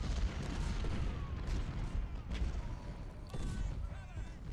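Distant cannon and artillery fire from a Civil War battle in the strategy game Ultimate General: Civil War at Malvern Hill, a steady low rumble with a few scattered booms and crackling volleys. Faint talk sits underneath.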